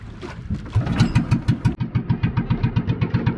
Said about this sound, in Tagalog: Umandar yung bangka namin.